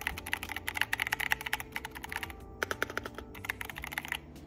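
Quick, uneven keystrokes on a custom Pokémon Sylveon mechanical keyboard built for a deep, thocky sound, the presses clicking along close up with short pauses and no talk.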